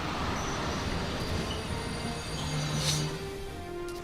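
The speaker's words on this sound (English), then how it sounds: "Is there another fucking train?" A train rolls past in the war game Valkyria Chronicles 4 as a steady, loud rumble of rail cars, with wheels squealing at a high pitch throughout and no voices.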